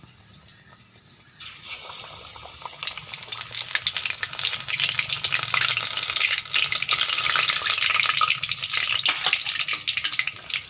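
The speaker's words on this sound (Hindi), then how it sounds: "जैसे ही घी गर्म हो जाए अच्छे तरीके से इसमें अब इनको तल लेना है" Chicken pakoras dropped into hot ghee, the frying swelling from a quiet start into a loud, dense, continuous sizzle and crackle that holds steady for about ten seconds without any speech.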